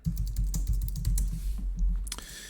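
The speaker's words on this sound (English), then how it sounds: "Let's go and hit A on our keyboard for appearances." Rapid typing on a computer keyboard: a quick run of close, crisp key clicks in an uneven rhythm, heard alone without talk.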